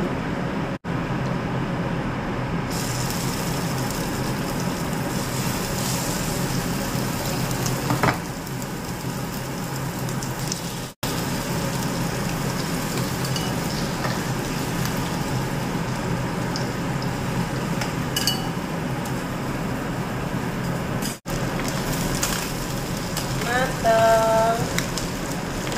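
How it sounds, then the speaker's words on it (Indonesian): Chicken fries in a pan with a constant loud sizzle and crackle, steady throughout with a few brief breaks and faint spatters near the end. "Lanjut kita goreng"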